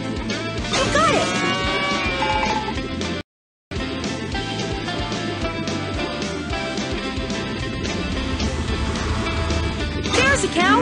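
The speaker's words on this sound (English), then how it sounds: "There's a cow. Cow spotted." Cartoon cow moos sound repeatedly in the PAW Patrol Rescue World mobile game as cows are found on a farm, layered over busy game music and effects with voiced character lines throughout.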